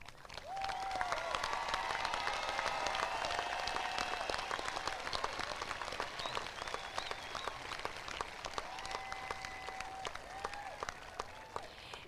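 A graduation audience at the 2021 Waynesville High School ceremony applauds the cum laude, magna cum laude and summa cum laude students, sustained even clapping that fills the hall for about twelve seconds with faint whistles above it.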